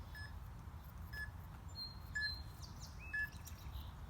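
A workout interval timer during a TRX upper body and core session gives short, evenly spaced high beeps, about one per second, faint over quiet room noise with no talk.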